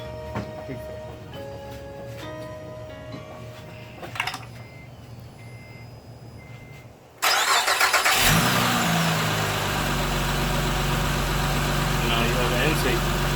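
A 2004-2008 Acura TL with a newly installed intake cranks and fires up about halfway through, then settles into a loud, steady idle after quieter sounds of someone working.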